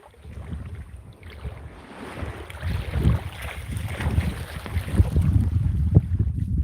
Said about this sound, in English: Apology for the wave noises here, but I'm trying to get some shots of these sharks.